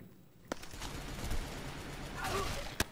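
A couple of sharp gunshots crack out, one early and one near the end, over a low murmur of game ambience in the free-to-play shooter Phantomers.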